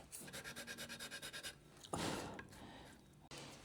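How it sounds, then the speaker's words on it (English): A nut shaping file dressing the edges of a guitar nut on a custom headless guitar, heard up close as a quick run of rhythmic rasping strokes followed by a louder, smoother rubbing scrape. "Just going to use a dress nut file, like nut shaping file. Bring the edges in."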